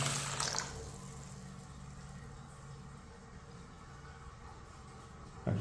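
Steady rushing water hiss of a toilet tank refilling, continuous and moderately faint, with a couple of brief knocks at the start and end.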